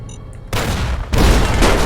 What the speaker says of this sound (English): Grenade bouquet.